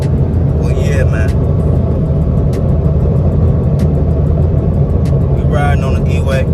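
A 2013 Ford Escape drives on a Detroit expressway in snowy March weather, giving a steady loud road rumble with constant engine and tire noise throughout, and people talking briefly inside the car.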